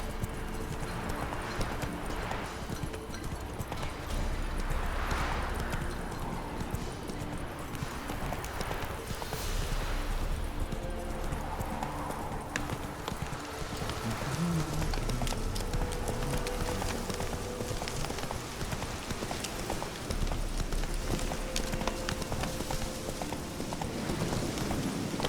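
Horse hooves in The Witcher 3 video game, a steady, rhythmic clip-clop of galloping on the ground, continuous for the whole stretch with occasional faint game sounds around it.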